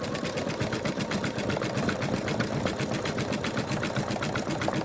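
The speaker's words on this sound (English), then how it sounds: "We're now stitching around the body." Embroidery machine stitching the outline around the body of an NNC Mr Ted design, a steady, fast, rhythmic needle clatter that runs continuously and loudly close by with no talking.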